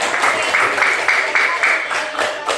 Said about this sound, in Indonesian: Sekarang coba beri tepuk tangan untuk kelompok ketiga.